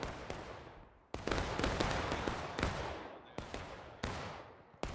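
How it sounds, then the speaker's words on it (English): Musket volleys from the War of Rights Civil War video game crack out in irregular sequence, each shot loud and sharp with a decaying echo, several overlapping in quick succession. "Independent fire on this right side! Independent fire!"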